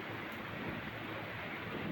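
Steady, moderate rain falling continuously for hours, a faint even hiss with no break and no voices.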